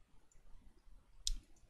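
A single short, sharp computer mouse click sounds close by in a quiet room, with only faint background hiss around it.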